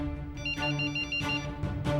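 A person mimics a mobile phone ringtone with their mouth, producing a steady, tonal ringing pattern that repeats in short bursts, loud and close with no other sounds around it.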